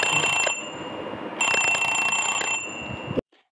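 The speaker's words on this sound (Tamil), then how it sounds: "அலாரம் சவுண்டு பாருங்கள்." An alarm clock rings loudly in rapid, high-pitched bursts, pausing briefly midway before resuming, then cutting off abruptly near the end.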